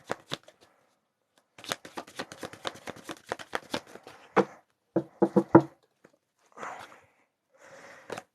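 A deck of tarot cards is shuffled in a run of quick, crisp riffling flutters. Separate taps and slaps of the cards follow, close and clear, with no talking.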